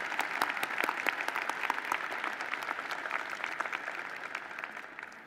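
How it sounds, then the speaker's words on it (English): A large crowd at a university graduate commencement ceremony at Virginia Tech applauds, a dense, steady wash of many hands clapping that carries evenly through the hall and fades slightly toward the end. "please recognize with your applause these representatives of the university's governing board"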